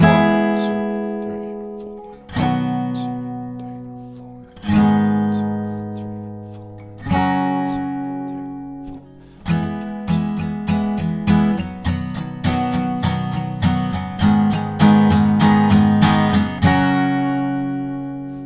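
An acoustic guitar strums chords, slow single down-strokes at first, then a quicker steady run of downstrokes, ringing clearly with no voice.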